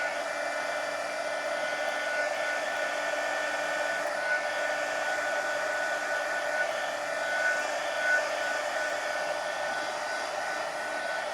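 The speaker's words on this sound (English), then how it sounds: "let me hit this with the heat gun" Heat gun blowing over a painted coloring page, a steady, even, airy whir that holds at constant loudness from start to finish, close by, with no speech.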